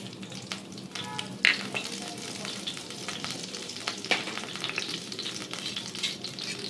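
Black cumin seeds and spices sizzle steadily in hot oil in a kadai, a dense crackling hiss with scattered sharp pops and occasional stirring clinks, close and continuous throughout.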